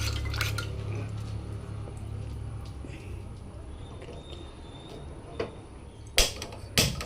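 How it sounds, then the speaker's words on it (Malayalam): A steady low background hum, then two sharp metallic clanks near the end as a pressure cooker is set down on a gas stove. "ഞാൻ കുക്കർ അടുപ്പത്തോട്ട് വെച്ച് കൊടുക്കുകയാണ്"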